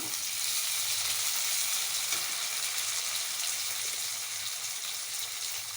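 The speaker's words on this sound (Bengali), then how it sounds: "তো এখন আমি টমেটোটা দিয়ে দিচ্ছি।" Chopped tomatoes hitting frying cumin in a pan, a loud, continuous close sizzle that holds steady throughout, with no voices.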